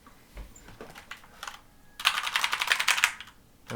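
Typing on a mechanical keyboard, starting with a few sparse key clicks and then bursting into a fast, loud flurry of close keystrokes for about a second, with no talking.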